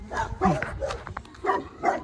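A dog gives several short barks and yips in quick succession, fairly close but not loud.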